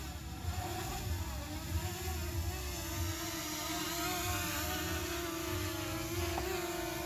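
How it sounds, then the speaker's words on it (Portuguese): A small camera drone flying back in to land near an old Volkswagen Kombi van, a steady, fairly loud whirring buzz that holds throughout, with no talking. "Vou trazer o drone de volta aqui, meu povo."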